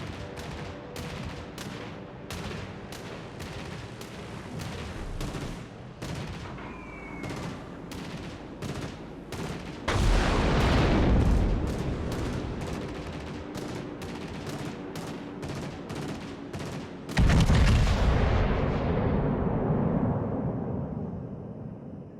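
Warship artillery fire in World of Warships Legends mobile naval battle: a rapid, regular train of gun reports, broken by two heavy booming salvos with rumbling tails.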